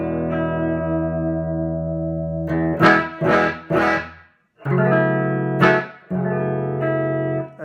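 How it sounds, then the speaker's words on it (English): Clean electric guitar through a 1976 Super Reverb amp with its reverb switched off, sustained chords ringing out, then a few quick strummed hits, a short gap, and more held chords, loud and close with no talking. "that's the amp clean. It's a 76 super reverb, and I have the reverb off."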